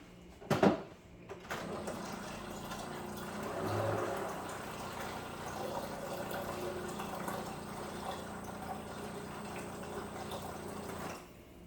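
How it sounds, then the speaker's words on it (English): Bottled water poured into the reservoir of a Keurig K Duo Special Edition single-serve and carafe coffee maker, starting with a sharp knock, then a steady, moderately quiet stream of splashing liquid filling the tank for several seconds. "So let me add water."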